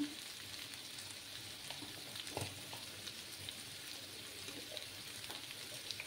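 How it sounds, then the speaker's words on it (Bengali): Papaya, potatoes and soybeans frying in a pan, giving a faint, steady sizzle with occasional small crackles and pops, heard alone without talk. "আর একটু ভাজা হতে থাক।"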